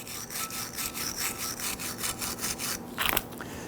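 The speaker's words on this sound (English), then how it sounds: "Use a bristle brush and clean where those were." Rapid back-and-forth scrubbing of a stiff bristle brush against a rusty brake bracket on a 2011-2017 Nissan Quest, a steady rhythmic scratching that speeds up briefly near the end.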